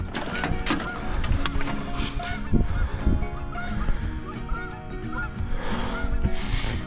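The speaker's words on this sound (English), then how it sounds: "Wait on the geese to be quiet" Geese honk repeatedly in a noisy, busy outdoor fishing spot, their calls overlapping in bursts against steady background rumble.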